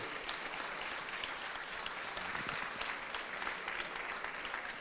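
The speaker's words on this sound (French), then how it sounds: "on peut les applaudir encore une fois" Crowd at the 2018 Salon de la Pâtisserie applauds pastry chefs, a steady, fairly faint wash of many hands clapping that continues evenly for several seconds.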